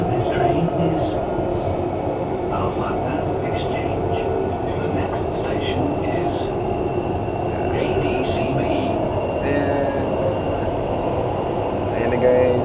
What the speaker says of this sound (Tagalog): So may paparating na isang train.